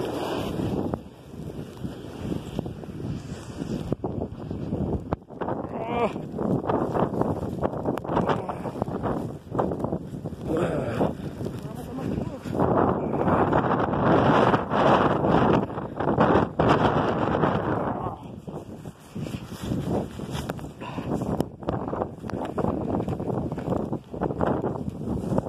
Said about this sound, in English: Grabe yung bagyo pala.